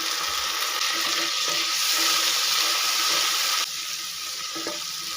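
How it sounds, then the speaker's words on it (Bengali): Chopped tomato hits a pan of fried onions and sets off a loud, steady sizzle that fills the space up close. It drops to a quieter fry partway through. No voices are heard. "এবার দিয়ে দেবো টমেটো কুচি আমি এখানে একটা টমেটো কুচি করে নিয়েছিলাম দিয়ে দিলাম"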